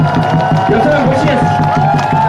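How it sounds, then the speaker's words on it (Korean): A crowd at a candlelight protest rally against THAAD in Gimcheon applauds and cheers steadily and close, with crowd voices and shouts mixed through the clapping. "여러분들에게 뜨거운 박수를 부탁드리겠습니다"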